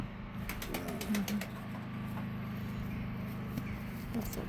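Pigeons from a Mykolaiv loft coo softly with a few low bursts, over a steady hum and some light fluttering, fairly close and quiet.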